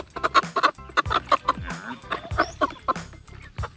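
A free-range rooster clucks in short repeated bursts close by, with a person talking over it.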